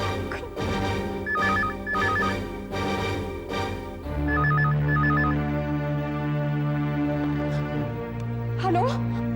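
A mobile phone rings indoors in a TV drama scene, a repeating electronic trill in short bursts over a sustained musical background, loud and close, with a brief vocal sound at the end.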